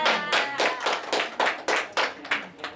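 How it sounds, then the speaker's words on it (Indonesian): A small class claps for a student in a lesson: about ten distinct, fairly loud claps in a steady rhythm, close by, with no voices over them. "tepuk tangan buat Sela"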